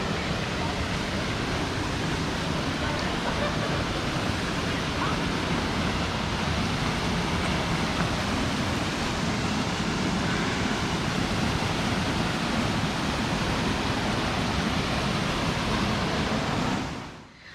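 Steady, broadband rush of a waterfall at a cool natural swimming spot, continuous and fairly loud throughout, fading out abruptly at the very end.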